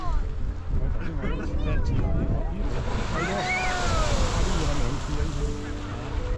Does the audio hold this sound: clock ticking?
no